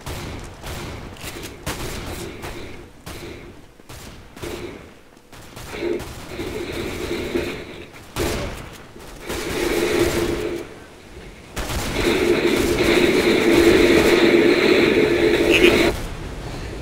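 Bursts of shotgun fire in an online shooter video game, with several sharp, loud blasts spaced out, then a longer stretch of dense, continuous gunfire near the end.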